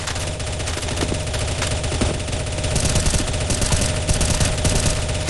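Constant rapid gunfire from a Counter-Strike: Global Offensive zombie escape round on a frozen tower map, a dense, loud, unbroken clatter of automatic weapons filling the whole stretch.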